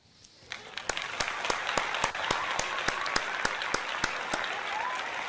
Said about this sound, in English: I got to give you another round of applause for that